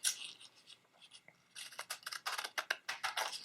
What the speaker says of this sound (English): I'm just going to put this right up against it and just cut.